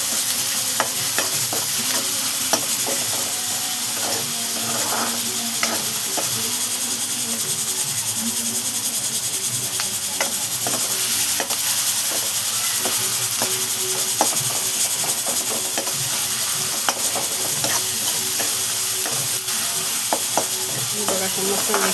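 Onion and tomato sizzle in hot oil in a pan while a spoon stirs and scrapes through them, giving a steady close frying hiss broken by repeated clinks and scrapes, with a faint voice now and then.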